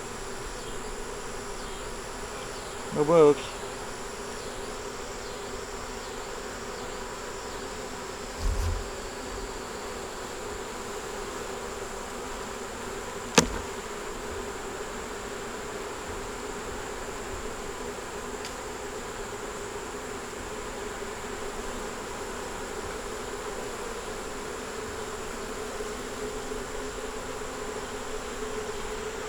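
Honey bees from a crowded hive hold a steady, low droning buzz throughout. A few brief knocks and a short spoken phrase break in near the start and middle.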